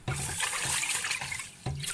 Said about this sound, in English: Round 2, put more water in, stir, stir, stir.